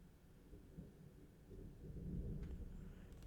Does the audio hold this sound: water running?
no